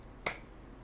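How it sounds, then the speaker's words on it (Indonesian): A single sharp clap, part of a scout clapping routine, one crisp hit standing alone against quiet background, close and brief. "tepuk tunggal,"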